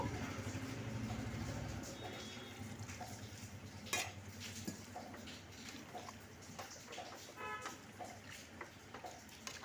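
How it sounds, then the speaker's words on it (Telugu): Ladle stirring a large pot of country chicken curry after rock salt is added, giving soft scraping and metallic clinks of spoon on pot, with a louder knock midway and a low bubbling sizzle underneath. "ఇంకా బాగా మళ్ళీ ఒకసారి కలుపుకోవాలండి ఉప్పు మొత్తము."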